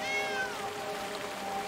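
A cat in the video game Blacktail gives a single drawn-out, rising-then-falling meow, fairly quiet and heard on its own without talk.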